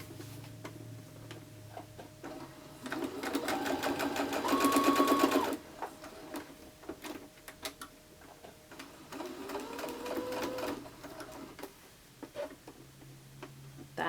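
A sewing machine stitches quilt pieces together for a mini quilt, running in two bursts of steady, rapid needle ticking, the first louder and about three seconds long, the second softer, with quiet pauses around them.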